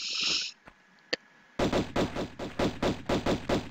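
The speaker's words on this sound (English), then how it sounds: "you're just shooting crazy around" Rapid gunfire from a PlayStation video game demo, a steady burst of about a dozen loud, evenly spaced shots coming after a quieter opening with a couple of isolated pops.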